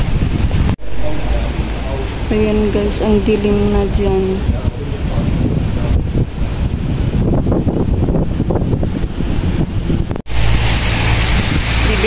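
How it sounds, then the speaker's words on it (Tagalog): Strong typhoon wind in Hong Kong roars as steady broadband rumble and gusting noise on the microphone, with a person talking over it and brief dropouts. "So, medyo malakas na din yung hangin."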